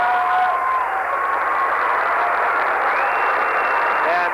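A basketball crowd at a Mankato State college game cheers and applauds a career steals record, a continuous, loud roar of clapping and voices that holds steady throughout.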